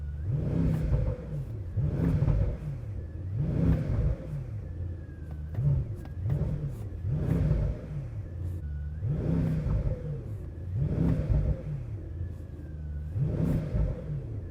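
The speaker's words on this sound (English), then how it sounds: "the engine revving all the way up to the rev limit of 4000 RPM" A Brabus Rocket 1000 HP sports car engine with turbo revs up to its rev limit and drops back repeatedly, about six rising roars in steady succession, loud and close with no talking.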